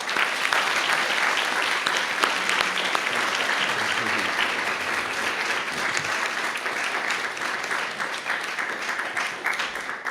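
Sustained, dense applause from a luncheon audience at the National Press Club greets film director M. Night Shyamalan, steady and full for about ten seconds with no break.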